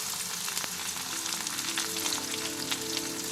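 Chopped onion hitting hot oil with frying cumin and chilli for masoor dal, a steady close sizzle with light crackles and faint stirring, no voices.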